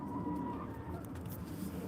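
Chickens, including Buff Orpingtons, cluck in a farmyard flock at close range, with soft steady calls over a continuous low background rumble.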